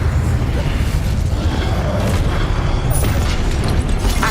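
Incendio fire spell cast in Hogwarts Legacy on PS5, a dense, loud roar of booming blasts and rumbling that runs unbroken throughout, with busy combat effects layered on top.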